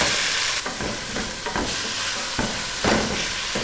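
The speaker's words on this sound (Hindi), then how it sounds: "कीमे को हमने यहाँ पर 2 मिनट तक भून लिया है।" Fatty minced meat (qeema) sizzles in a pan as it is fried and stirred, with steady close crackling broken by several scraping strokes of the spoon and no voices.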